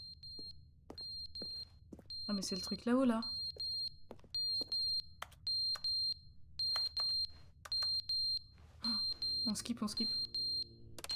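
Beeping alarm in The Stanley Parable Ultra Deluxe, a steady high electronic tone pulsing in regular repeated bursts, running under a French-speaking player's voice and exclamations.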